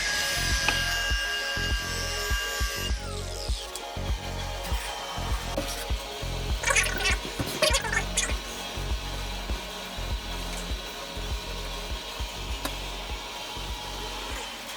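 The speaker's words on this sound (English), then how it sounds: "We're gonna hit it with a polishing pad to bring it closer to the edge for a cleaner and tighter mitered joint." A polishing pad grinds the mitered edge of a wood-look shower tile, giving a steady, close abrasive whine with rough, scraping pulses throughout and no voices.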